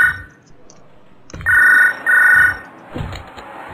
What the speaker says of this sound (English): Can I answer the phone?